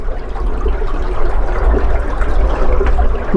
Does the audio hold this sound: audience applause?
no